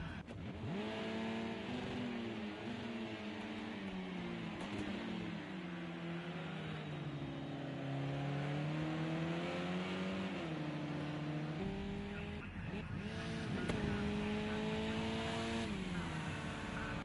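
Touring race cars in a racing video game, engines droning and revving continuously with rising and falling pitch as gears shift, loud and steady with no talk over them.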